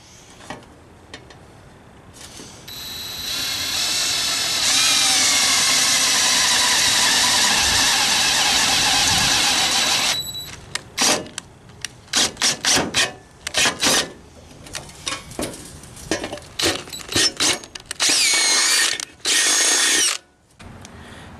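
A power drill with a 5/16 bit bores a hole into a metal air cleaner for a dual-stud TBI setup, a sustained loud whine for several seconds, followed by choppy bursts, clicks and short spins.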